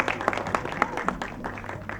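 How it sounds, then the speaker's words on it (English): At a movie promotion event for Ek Villain Returns, an audience claps in a brief burst of sharp, separate hand claps that quickly thin out and fade. "Can we have a huge round of applause for the entire star cast, please?"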